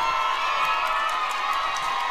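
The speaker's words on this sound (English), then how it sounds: "This Vikings crowd getting on their feet here for this final possession." A basketball crowd roars and cheers as the home fans rise for a final possession, a loud continuous wall of shouting voices throughout.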